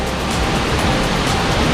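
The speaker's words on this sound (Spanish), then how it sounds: "La verdad es que es una cascada con una caída impresionante" Dense, steady roar of a tall waterfall with an impressive drop at Cascada la Escalera near Xico, loud and unbroken, no voices.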